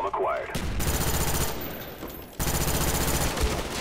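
Machine-gun fire rattles loudly in Call of Duty Black Ops on the Nuketown map, two sustained bursts of rapid shots separated by a brief lull, close and dominant.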